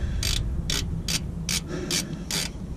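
A socket wrench ratchets on a pulley bolt of a Dodge Chrysler 3.5L engine, six crisp clicking bursts at an even pace, close and clear over a low background hum.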